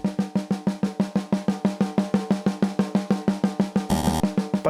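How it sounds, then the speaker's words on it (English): Drum single strokes at a steady, even tempo, each hit clear and close, staying fairly uniform in loudness with only a slight rise, and a brief bright crash-like burst near the end. "please play single strokes at a comfortable tempo, from very quiet to very loud and back"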